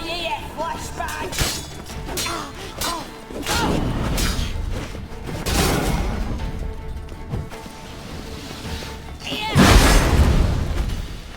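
A flashbang bursting during a combat encounter in The Witcher 3, heard as a heavy boom near the end that follows a busy stretch of clanks, thuds and impacts, with voices present.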